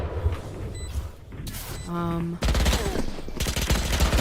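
Rapid gunfire bursts from a Valorant match, a competitive tactical shooter game, crackling loudly through most of the clip alongside other game effects and a brief tonal chime.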